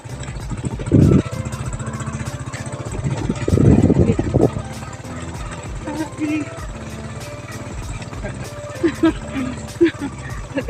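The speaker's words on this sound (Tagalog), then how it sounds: "nakasakay na dyan pong motor" A motorcycle engine runs steadily while being ridden, a low continuous drone with a couple of louder rough bursts, and voices talk over it throughout.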